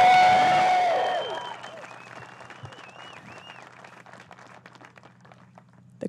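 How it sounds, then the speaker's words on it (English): A loud crowd roars and cheers at a disc golf tournament at Maple Hill, the burst strongest at the start and then fading into a lingering murmur with scattered whistles. "The crowd trying to break the mics with that one"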